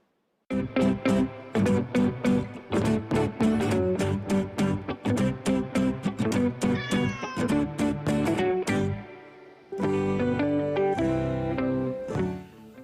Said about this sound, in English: Tif will be taking you to this cat kingdom in Chiang Mai